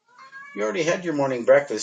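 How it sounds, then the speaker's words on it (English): An elderly 18-year-old tabby cat meows, a brief high cry near the start, quickly followed by someone speaking close over it. "You can hear my tabby cat in the background."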